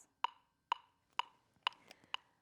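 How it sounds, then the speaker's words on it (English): A handheld metronome set to 120 clicks briskly, five or six crisp ticks about half a second apart, close and quiet against a silent background. "This is a handheld metronome."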